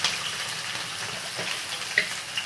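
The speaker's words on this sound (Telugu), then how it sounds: "ఉల్లిపాయలు కూడా వేసేసుకుంటున్నాను." Onions go into hot oil with green chillies and fry with a continuous, even crackling sizzle. A few small pops and clinks rise above it, with no one talking.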